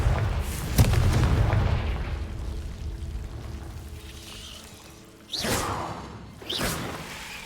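In Hogwarts Legacy, a Confringo explosive spell bursts with a deep rumbling boom, followed by a lingering roar and two sharper whooshing blasts near the end.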